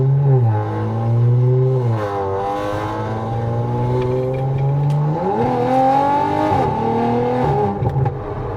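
An Audi RS4 with a 331 kW engine revs hard under full throttle on a drive, its loud, rising engine note climbing, dipping through gear changes and climbing again, close and with no talk over it.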